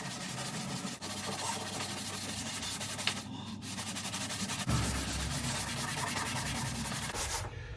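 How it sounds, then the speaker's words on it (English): Scouring pads with WD-40 scrub car bodywork in a steady, continuous abrasive rubbing for about eight seconds, close and fairly loud, with no talk. "We're going to use WD-40 and some of the scouring pads that I've got"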